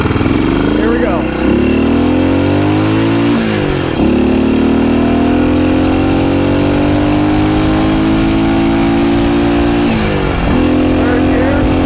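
A 1972 BSA B50SS Gold Star motorcycle engine roars loudly and close up while being ridden. The revs climb steadily, dip sharply at a few gear changes and climb again, with constant wind and road noise underneath.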